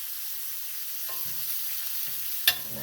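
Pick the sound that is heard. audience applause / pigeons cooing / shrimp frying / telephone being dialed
shrimp frying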